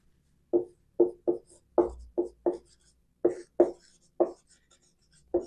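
Writing on a board during a Hindi-language history lesson on the Indus Valley civilization: about a dozen short, evenly spaced scraping strokes, close and clear, with quiet pauses between them.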